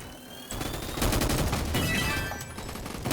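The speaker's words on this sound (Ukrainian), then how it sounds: "Я вже навіть не бачу, в кого я стріляю, але я стріляю, стріляю, стріляю." Rapid gunfire from a Roblox military shooting game bursts in as a dense, continuous fusillade of repeating shots, loud and sustained after a brief quieter opening.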